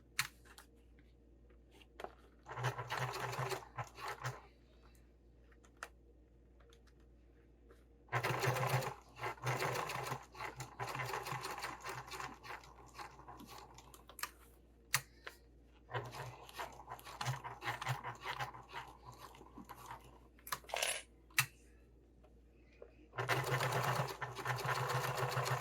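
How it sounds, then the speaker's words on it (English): Sewing machine stitching a zipper into vinyl, running in bursts of rapid mechanical whirring between quiet pauses, with occasional clicks and handling noises close by. "this is not my best looking zipper because my machine's struggling with this vinyl"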